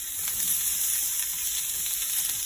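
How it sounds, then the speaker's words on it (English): Peppers searing in an oiled pan make a steady, close sizzle with a bright hiss and faint crackles, no talking over it. "now I'm just gonna drop these peppers in and let them sear"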